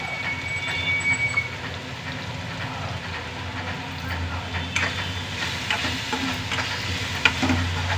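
Spices with chilli powder and turmeric frying in oil for an eggplant tamarind curry, a steady close sizzle with occasional scraping stirs, no talk.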